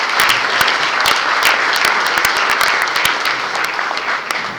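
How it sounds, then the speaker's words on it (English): Steady applause from a conference audience at an economic development event, dense clapping sustained for several seconds without speech. "And can I have a round of applause for them, please?"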